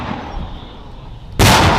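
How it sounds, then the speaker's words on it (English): Artillery gun firing: a sudden loud, broadband blast cuts in after a stretch of quiet outdoor background and keeps roaring to the end. "we just send it out to the guns and they shoot it"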